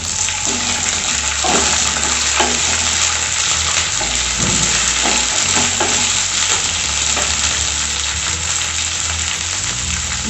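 Fresh peas hit hot oil in a pan for a tomato and pea sabzi, giving a steady, close, loud sizzle with occasional stirring clatter throughout.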